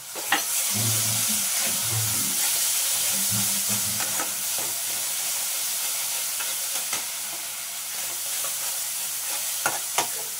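A spoonful of dry-roasted spice paste fries in a pan for a potato and papaya curry, making a steady close hiss with occasional stirring scrapes and clinks, and no speech.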